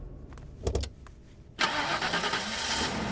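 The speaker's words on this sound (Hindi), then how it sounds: "गाड़ी स्टार्ट कर।" A car engine cranks with a few short stuttering bursts, then catches and settles into a steady, fairly loud idle after a brief pause.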